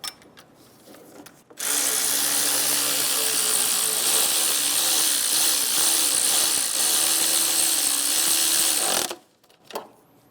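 A power tool whirs continuously for about seven seconds while snugging down an alternator bolt on a 2007-2012 Nissan Altima, its motor note wavering slightly, with brief quiet handling noises before and after.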